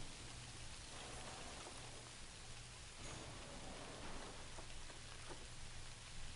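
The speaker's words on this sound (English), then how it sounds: "Oh, and it's raining." Steady video game rain falling and pattering on surfaces, a constant hiss with scattered drops and a faint low hum underneath, no voices.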